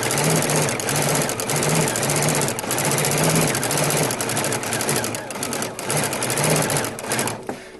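A Baby Lock sewing machine fitted with a Trustitch stitch regulator runs in a steady, fast stitching whir that stays loud and close the whole time, rising and falling a little with the sewing speed, then cuts off at the very end.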